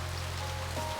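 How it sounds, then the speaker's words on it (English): Pouring rain in the visual novel One forms a dense, constant hiss of falling water, steady and fairly loud, with a faint low hum beneath and no voices. "Eyes meet through the curtain of pouring rain."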